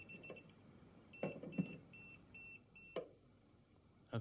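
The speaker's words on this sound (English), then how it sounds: "it beeps way faster when it's at a live hole" A handheld non-contact voltage detector beeps in quick succession while held at a live wall socket hole; faint, rapid electronic beeps repeat with a few louder clicks and handling noises.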